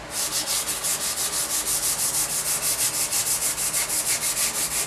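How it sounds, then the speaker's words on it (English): Steady rhythmic scratchy rubbing of sandpaper on a wooden guitar neck, light sanding, close and fairly loud, with even back-and-forth strokes and no voices. "we'll get the sanding done, just a little light"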